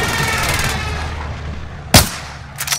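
Gunfire in Call of Duty: Modern Warfare: a sharp, loud single shot cracks out of steady game background noise, followed by a fainter second burst near the end.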